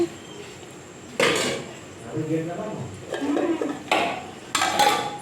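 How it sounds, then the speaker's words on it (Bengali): A ladle stirs uncooked rice through a pot, giving several loud metallic clanks and scrapes in short bursts, with quieter shuffling in between. "চালটা দিয়ে দিলাম এবার একটু হাতা দিয়ে আমি নেড়ে দিচ্ছি ভালো করে মিশিয়ে দিচ্ছি"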